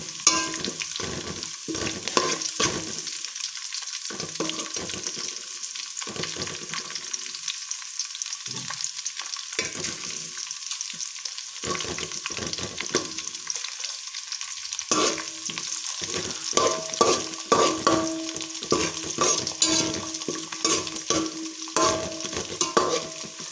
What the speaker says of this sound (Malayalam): കൊത്തി അരിഞ്ഞ് വെച്ചേക്കുന്ന നമ്മുടെ ക്യാബേജ് ഇട്ട് കൊടുക്കാം.